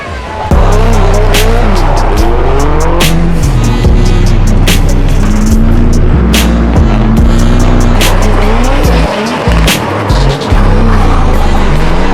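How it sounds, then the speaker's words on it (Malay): Boxer-engine car at a Malaysian drift festival, its loud rumbling engine revving continuously with rising and falling pitch, accompanied by sharp clattering bursts and tire noise, with no pauses. "Kereta dia boxer rumble."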